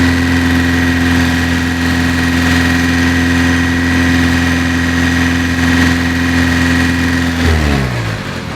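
A car engine holds a steady, loud drone at about 2500 rpm during an oxygen sensor check, with a constant mechanical hum that drops in pitch near the end as it decelerates.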